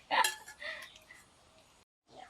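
Metal spoon clinking against dishes while serving rice and fish curry at a home meal, a few bright close clinks and scrapes early on, then quieter, with brief faint sounds after a short silence.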